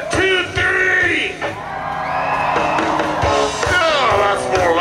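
Outdoor crowd at a Canadian Pacific Holiday Train stage show screaming, whooping and cheering loudly for several seconds, a dense mass of voices close by.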